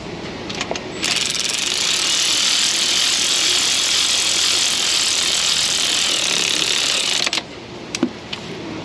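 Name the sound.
tool running spark plugs into 2000 Silverado engine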